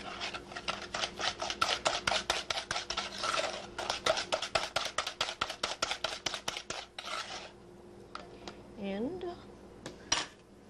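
A mixture being beaten with sugar in a bowl, a quick run of rhythmic scraping strokes that pauses briefly and starts again, with a few clinks and short remarks near the end.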